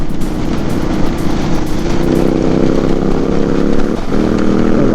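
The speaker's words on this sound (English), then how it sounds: "that's the Ducati for you. Ducati Multistrada." A Ducati Multistrada motorcycle engine with an Akrapovič exhaust running loud and close, its exhaust rumbling steadily with a brief dip in revs near the end.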